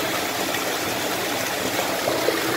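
Water rushes steadily out of a Rainy centrifugal water filter as it flushes, a loud, even hiss of gushing flow with no pauses.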